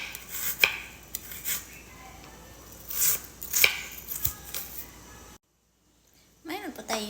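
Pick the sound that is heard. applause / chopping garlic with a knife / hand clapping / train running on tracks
chopping garlic with a knife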